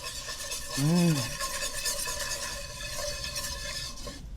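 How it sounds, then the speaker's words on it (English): A whisk works sugar and pectin together in a skillet, giving a steady scraping and stirring rasp with one brief swooping tone near the start. It stays at a moderate level throughout, with no voices. "I'm going to whisk this together."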